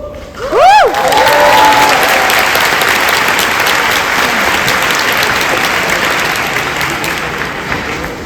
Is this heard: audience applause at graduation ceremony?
yes